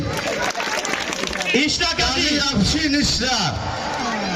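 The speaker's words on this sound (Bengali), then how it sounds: "সবাই আরো জোরে করতালি দেই।" Crowd applauding for a graduating kindergarten student at a school ceremony, steady broadband clapping with cheering voices and shouts over it throughout.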